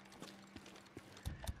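Horse hooves clip-clop faintly in a sparse, irregular series of soft thuds, with a few louder knocks near the end against a quiet background.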